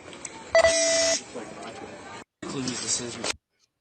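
A single steady electronic beep from an undercover car lasts about half a second, loud and close, with people talking over and around it.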